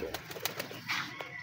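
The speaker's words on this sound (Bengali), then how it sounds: "লাল বোম্বাই কবুতর" A red Bombay pigeon gives a soft, quiet coo at a pigeon farm, brief and faint, mixed with light rustling and clicks.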